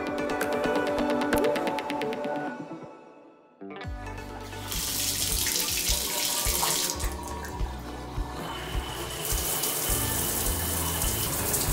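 Hot water runs from a tap into a sink in a laundry room of a shed converted into a house, a steady near gush that starts abruptly after a quiet gap and continues with clatter and background activity.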